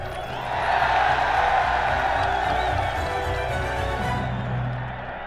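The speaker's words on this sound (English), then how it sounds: "Now they were cheering the return of the Stuarts." A large crowd cheers the homecoming of King Charles II, a broad sustained roar of many voices swelling in and holding steady before fading slightly at the end.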